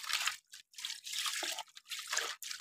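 Water splashes and drips in short bursts with brief pauses as snakehead fish are rinsed clean, close by and fairly quiet.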